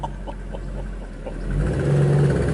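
Porsche 911 (997) Turbo Gen 1.5, 480 bhp, engine running close by with a steady low rumble that swells into a louder, deeper rev toward the end.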